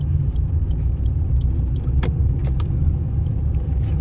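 A car driving slowly in city traffic while the driver shifts up into second gear, with a steady low engine rumble throughout and a few faint clicks from inside the cabin, no one speaking.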